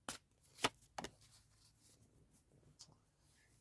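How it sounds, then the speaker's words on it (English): Tarot cards being drawn from a deck: a few quiet, close card flicks and slides, one sharper snap among them, with soft rustling between in a quiet room. "So um just gonna get the last few cards out."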